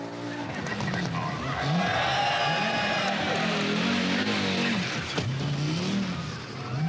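An Audi Quattro rally car drives a stage at the 1982 Welsh Rally. Its engine rises and falls through gear changes, loud and close, with rising revs and tire noise swelling and fading across the pass.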